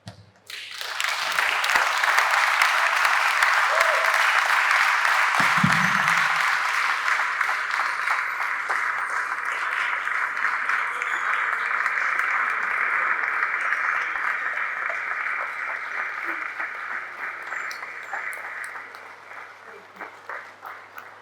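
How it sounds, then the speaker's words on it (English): Sustained audience applause at a public lecture, dense and steady for most of the stretch before gradually thinning out, with a few scattered cheers. "another round of applause"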